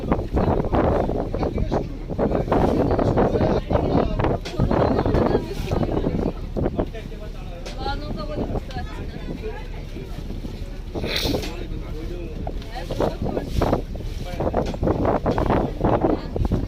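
Wind gusts buffet a boat on the Matla river, rumbling and roaring steadily over water noise, with voices talking in the background.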